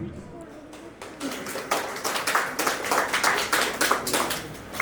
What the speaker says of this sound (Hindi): तालियां तो ऐसे बज रही जैसे 1250 रुपये आ रहे हैं।